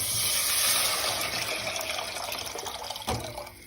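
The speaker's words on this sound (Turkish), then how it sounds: "Ve bunu soğuk su ekleyeceğim." Cold water pours steadily into a pot of tarhana soup, a loud continuous splashing and gurgling that tapers slightly toward the end, with no voices.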